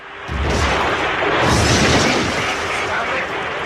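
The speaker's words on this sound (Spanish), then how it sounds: "Pudimos oír una explosión en la grabación." Loud, sustained rumbling roar recorded in the cockpit of JAL flight 123, a broad blast-like noise filling the whole span with a swell around the middle, no speech over it.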